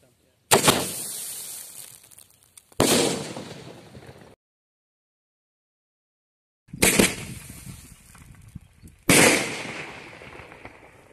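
Two sky shot firecrackers taped together go off outdoors during Diwali: four sharp, loud bangs come in two pairs, each followed by a crackling, hissing tail, with a gap of silence between the pairs.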